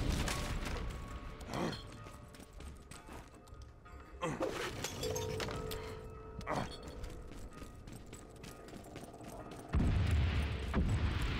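Explosions and crashing debris as a wall is blasted open in the WWI video game Valiant Hearts: The Great War, with several sharp booming bursts and shattering clinks over a steady game soundscape, the loudest burst near the end.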